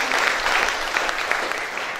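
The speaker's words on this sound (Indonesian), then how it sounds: "Tepuk tangan ya buat Tuhan" Audience applause fills a worship and praise ministry seminar session, steady dense clapping throughout at a strong, even level with no pauses.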